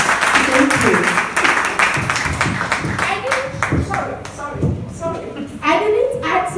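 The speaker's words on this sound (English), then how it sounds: "with a round of applause. Let's welcome her." Audience applause and clapping welcoming someone speaker to lead a discussion at a talk event, loud and dense at first, then thinning into scattered claps with murmuring voices and shuffling.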